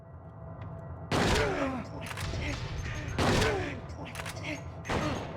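Bursts of gunfire in Silent Hill 2 on PS2: three loud volleys of shots with echoing tails, separated by quieter stretches of game ambience, with a player talking in between.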